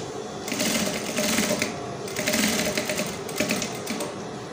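A sewing machine understitches a baby's ball dress, running in a steady, close mechanical chatter with brief changes in speed across a few seconds.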